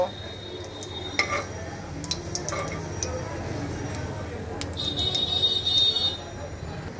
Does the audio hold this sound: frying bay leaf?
yes